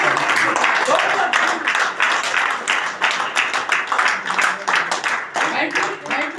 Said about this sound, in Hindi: जोरदार तालियों से स्वागत होना चाहिए सर के लिए